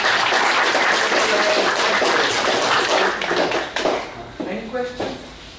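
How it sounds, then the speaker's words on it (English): Lecture audience applauding at the end of a talk on anomaly detection in wireless networks: dense, steady clapping for about four seconds that thins into a few scattered claps and taps, with faint voices underneath. "Now you can clap."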